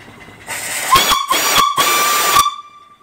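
A loud antique steam engine whistle blows in three sharp bursts, with hissing steam around each blast, then fades to quiet.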